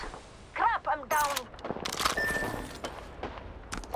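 Video game gunfire crackles in bursts over close, talkative voices, sharp broadband shots stacking into a short flurry before fading into busy background noise.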